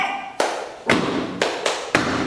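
A class of students does a rhythmic group clap cheer in a classroom: five sharp, loud claps in an uneven pattern, each ringing briefly in the room, with no voices.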